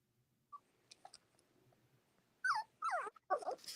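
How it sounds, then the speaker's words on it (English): New puppies whimper and yelp faintly in the background, a few thin cries early on and then a cluster of louder, rising whines near the end, with no talk. "That's those new puppies saying, pay attention to me."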